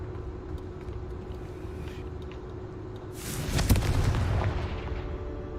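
A Confringo blasting spell goes off in Hogwarts Legacy, a single booming explosion with a sharp crack rising out of a steady rumbling game background and fading over a couple of seconds.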